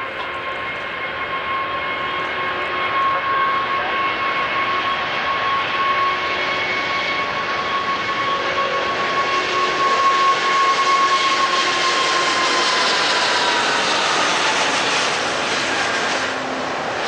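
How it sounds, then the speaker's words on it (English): Fixed-wing aircraft during a minimum unstick speed takeoff test, rotated deliberately onto a tail skid on the runway; a loud, sustained jet engine roar that builds and brightens over many seconds, heard from outside without voices. "deliberately rotating to a tail skid to establish the minimum speed that the aircraft can unstick on the runway"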